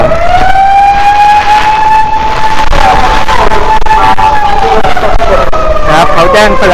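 Road warning siren wailing in a steady rising and falling tone during a typhoon in Japan, loud and continuous under strong wind roar, with an ambulance out on the road.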